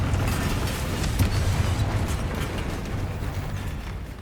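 Confringo fire spell blasts in Hogwarts Legacy: a dense, rumbling burst of crackling explosive energy that stays loud and fairly steady, with a sharper thump near the middle before slowly easing.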